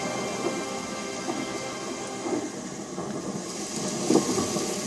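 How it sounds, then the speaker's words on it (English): Heavy rainforest rain pours in a steady hiss over faint, distant rolls of thunder, with no voices. "With the lightning comes the rain."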